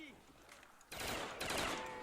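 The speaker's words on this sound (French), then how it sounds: "Une arme à rafale améliorée" An upgraded burst-fire weapon in a zombie shooter game fires rapid loud bursts after a short quieter lead-in, with a voice talking underneath.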